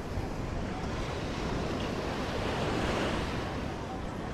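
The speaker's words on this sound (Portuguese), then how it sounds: "Tá ventando demais, velho." Strong wind roars into the microphone alongside crashing surf at Boa Viagem beach in Recife, Brazil, a loud, constant broadband rush with no pauses and no speech.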